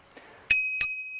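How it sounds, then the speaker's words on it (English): Bell on a DYU FF500 electric bike rings twice, two bright, close metallic dings with ringing tails, after a few faint clicks and no talking. "Inoffensive bell, works really well."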